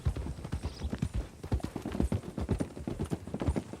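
Horse hooves clip-clop at a quick, steady trot in Red Dead Redemption 2, a close run of even beats that continues through the whole stretch with no talking.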